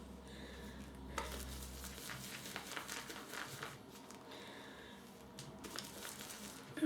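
Sticky shaving soap being stirred and whipped in a bowl with a brush, producing a wet, crackling, squelchy lather that pulses in bursts with short pauses between strokes.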